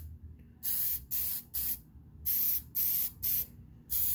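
Spray can applying another coat of paint to a pickup tailgate in short repeated bursts of hissing spray, about seven separated blasts of a second or less, close and clear with quiet gaps between.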